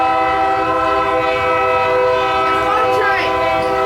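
Union Pacific work train loaded with ballast rock passes close by in Springfield, Illinois, its loud sustained multi-tone horn blaring over the rumble of wheels and cars.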